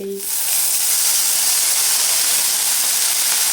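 Green chillies and coriander leaves hit hot oil in a pan with a sudden loud, bright hiss that holds steady and close for several seconds after a brief voice at the start.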